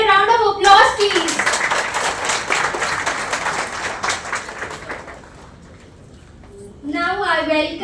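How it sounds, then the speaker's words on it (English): An audience claps at a bank's MSME outreach camp in a Hyderabad hotel, several seconds of loud, dense applause that tapers off, with a host's voice heard before and after. "Can I get a round of applause,"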